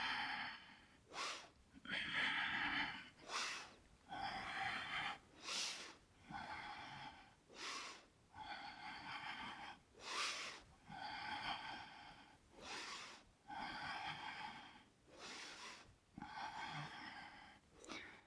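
Deep, rhythmic breaths during a Hatha yoga pose, about nine even inhale-exhale cycles, each a breathy nasal rush, close and clear with no talking.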